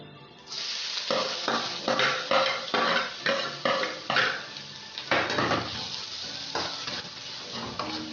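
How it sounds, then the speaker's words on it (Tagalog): Onions sauté in hot oil for chicken sizzling sisig, a loud sizzle broken by rhythmic scrapes and clinks of a utensil stirring in the pan, with no voices. "Yan, mainit na yung oil. Gisa natin yung sibuyas."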